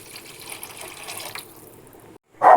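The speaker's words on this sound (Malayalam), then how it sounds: "വെള്ളം കൂടി ഒഴിക്കാം." Water poured into a pot of rasam while cooking, a gentle running splash for about two seconds, then a brief pause and a short, louder final pour.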